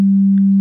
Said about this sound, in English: normal sine wave